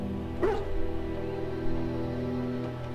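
A Mabari war hound in Dragon Age Origins, sick from swallowing Darkspawn blood, lets out a short whimpering whine followed by fainter whines over a low steady game ambience.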